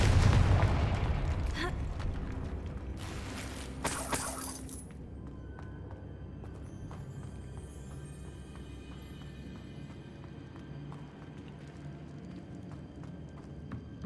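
A Confringo fire spell detonates in Hogwarts Legacy with a loud blast at the start that slowly fades into a low rumble, followed by a few sharper crackling bursts a few seconds later.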